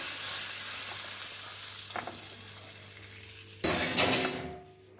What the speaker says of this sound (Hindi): बेसन पर जो कड़वा तेल यानी सरसों का तेल गरम गरम देना है